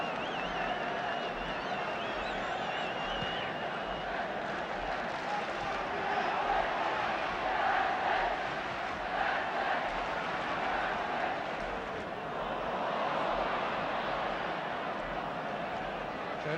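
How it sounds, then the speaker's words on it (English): Football crowd at a United home match against Derby, a broad steady roar of spectators building in support of United, with swells of cheering and some applause under a commentator's voice. "The crowd now beginning to get behind United."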